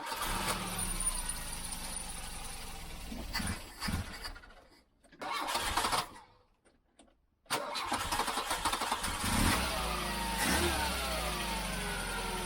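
An Audi 80 engine that has sat unused for 19 years cranks and catches, then revs hard in loud surges, cuts out to near silence and restarts, running rough and loud up close with no talk.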